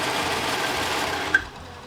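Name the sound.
serger overlocker sewing machine stitching a lettuce hem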